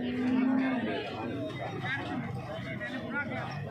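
A cow gives one low, drawn-out moo at a cattle market in Fatehpur, heard close at the start, followed by the murmur of people talking in the crowd.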